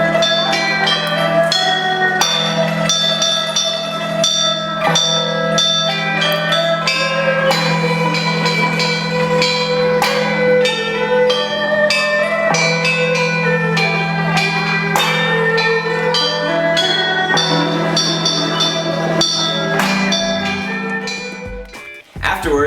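A tune played on bells, heard in China along the Silk Road, rings out in a steady, loud melodic sequence of struck tones with lingering overtones, continuing for about twenty seconds before fading at the end.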